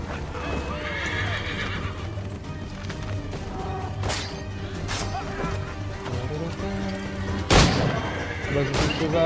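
A horse in the video game Assassin's Creed 3 whinnies and clip-clops along, hoofbeats steady under game sounds with a sharp crash near the end, while a player talks over it.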